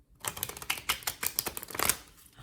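Tarot cards being shuffled by hand, a close, dry run of rapid crackling riffles and soft slaps lasting a couple of seconds, with no voices.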